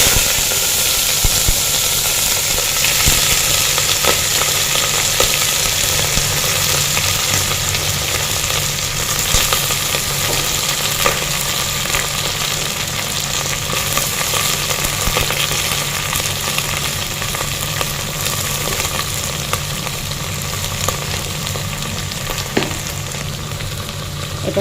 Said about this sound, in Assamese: এটা সবজিখিনি ফ্ৰাই কৰি লম